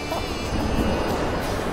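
Strong ocean waves break against an irregular rocky shore of black volcanic sand on a small Portuguese island, a dense, continuous roar of surf with gusty wind noise.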